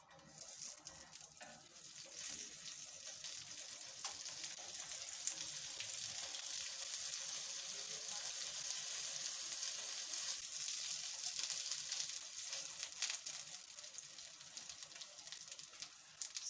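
Sausage skewers sizzle steadily in hot oil on a grilling pan, a dense, continuous crackling hiss that holds close and fairly loud throughout with no voices.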